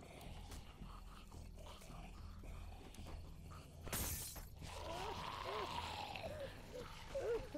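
Car window glass shatters in The Walking Dead game as a single sharp, bright crash mid-scene, set against low rumbling ambience with grunting and voices following.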